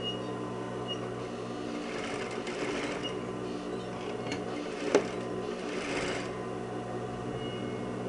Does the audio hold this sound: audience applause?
no